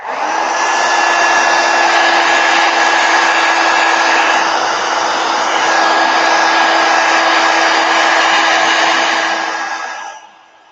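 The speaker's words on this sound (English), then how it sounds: "Hit it with a heat gun. It dries up real quick." A heat gun blows in one steady, loud whooshing drone for about ten seconds while drying a watercolor painting of flowers, then cuts off and fades at the end.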